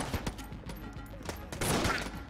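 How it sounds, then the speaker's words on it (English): An electrified shot bow fires in Enter the Gungeon as a rapid volley of sharp crackling shots, irregularly spaced, with a denser burst of zapping impacts toward the end. "electrified shot bow"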